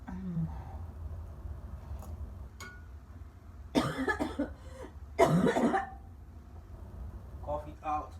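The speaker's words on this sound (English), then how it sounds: "Cough it out." A person coughs during a home remedy session for a dry cough, a few harsh bursts standing out against a quiet background with faint room noise between them.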